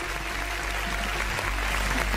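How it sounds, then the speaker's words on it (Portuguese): A thick burst of applause sound effect, dense crowd clapping at steady loudness throughout, with no voices over it. "Bota aí a salva de palmas para vocês."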